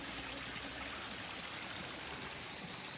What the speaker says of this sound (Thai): น้ำไหลมาสวยมากเลยนะ